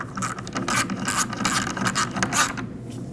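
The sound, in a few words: mounting nut being tightened onto radiator support stud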